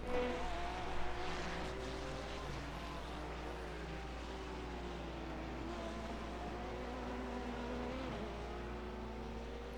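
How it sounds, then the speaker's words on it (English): A GT3-class racing car's engine roars steadily in an IMSA race in the iRacing sim, droning loud and close along a long straight with shifting pitch as the car closes on another Porsche GT3, no talking over it. "Catching another Porsche GT3 in a pretty crucial point in this long straight."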